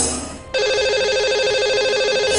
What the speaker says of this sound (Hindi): उनको फोन लगा लेते हैं